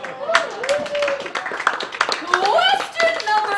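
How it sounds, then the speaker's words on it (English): A studio audience claps at a musical revue show: quick, scattered hand claps sound close and lively, mixed in with overlapping voices for the few seconds heard. "Let's have a round of applause for that."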